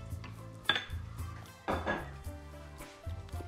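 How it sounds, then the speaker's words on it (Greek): A spoon stirs orzo with octopus in a pot, producing close clattering knocks and scrapes against the metal in a few separate bursts, with a soft background hum. "τώρα το ανακατεύω από κάτω προς τα πάνω"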